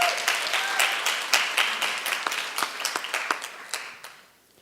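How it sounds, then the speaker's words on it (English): An audience at a student organizing event applauds, a dense burst of clapping that starts strong and thins out toward the end. "Let's welcome Justin Marks, please, with a round of applause."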